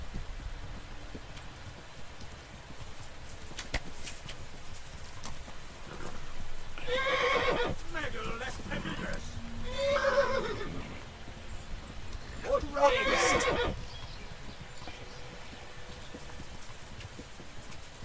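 A horse in the Kingdom Come Deliverance video game neighs loudly several times among hoofbeats and a patter of rain, while a person talks excitedly over the game sounds.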